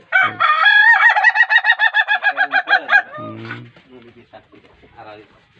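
A long, rhythmic crow from an ayam ketawa (laughing chicken) with a rapid stuttering cackle, like laughter, lasting about three seconds, then softer clucks and bird chatter.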